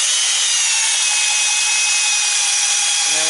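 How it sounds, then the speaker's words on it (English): Power sander working down wood on a Woodmizer crane build, a loud continuous high whine held steady throughout, close by and without talk. "So he's going to sand that down."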